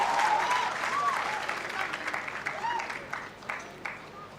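Applause from an audience at a commencement ceremony, a moderate wash of clapping that gradually thins and fades, with faint voices and a few cheers mixed in.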